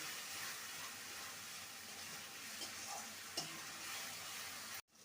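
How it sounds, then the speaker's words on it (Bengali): Spices and masala for dhaniya mutton fry in oil with a faint, steady sizzle and hiss, broken by an occasional soft stir or clink, before it cuts off abruptly. "যতক্ষণ না মশলা থেকে তেল ছেড়ে আসছে ততক্ষণ কষিয়ে নিতে হবে"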